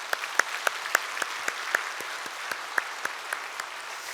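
A church congregation at a Cheonan evangelism rally claps in thanks, with sparse, quiet, irregular hand claps scattered throughout and no talking.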